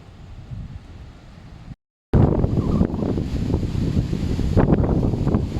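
Strong wind gusts outdoors at a sweet potato planting field, a loud steady roar buffeting the microphone with a brief dropout before the gusts return even stronger.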